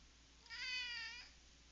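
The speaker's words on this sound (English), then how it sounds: "If you hear a cat meowing, it's because there's a cat next to my microphone." A cat meows once, close to a microphone in a quiet room, a single short tonal call against faint background hiss.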